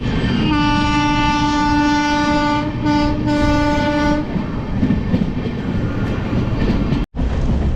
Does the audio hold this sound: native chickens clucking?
no